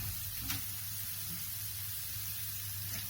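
Washed taro (arvi) tipped into hot garlic-ginger masala, a dense, steady sizzle and hiss close by with a brief crackle at the start, no one speaking.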